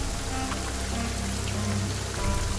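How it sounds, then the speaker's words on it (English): Heavy rain pours steadily in a dense, even wash of drops on surfaces, with no voices over it. "The rain is heavy, but not heavy enough to dampen the sound."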